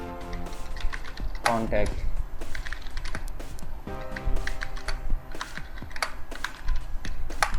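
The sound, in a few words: typing on a computer keyboard in Excel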